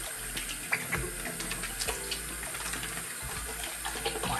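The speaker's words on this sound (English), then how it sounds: "Wash my hands." Tap water runs steadily into a sink while hands are washed, a continuous close splashing rush for several seconds with no speech.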